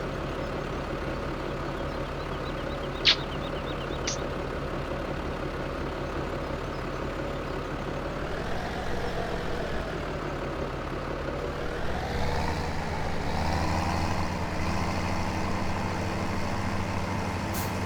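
Tractor engine in Farming Simulator 17, a steady low drone running throughout with a shift in pitch partway, a brief hiss near the start and a deeper rumble toward the end.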